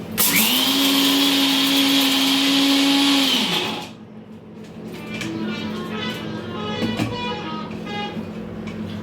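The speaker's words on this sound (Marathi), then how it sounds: "आता हे मी सगळं मिक्सरला ग्राइंड करून घेते" Mixer grinder grinding coconut chutney, a loud, close, high motor whine running for about four seconds before cutting off, then quieter clattering and kitchen sounds as it stops.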